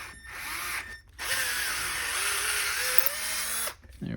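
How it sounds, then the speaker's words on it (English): A power drill reams out a set-screw-locked part during an SDS Duplex rebuild, whining steadily for about two and a half seconds between brief pauses, with short bursts at the start and end. "I'm going to lock my set screw in place so I can hold it while I just kind of ream it."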